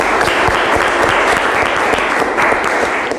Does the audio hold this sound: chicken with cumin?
no